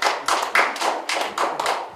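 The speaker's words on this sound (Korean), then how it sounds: "박수 한번 주시기 바랍니다" Small group clapping during a Korean live commentary broadcast, a few bursts of close, loud handclaps in uneven clusters, each fading quickly before the next.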